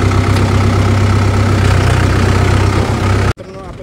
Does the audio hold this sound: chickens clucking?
no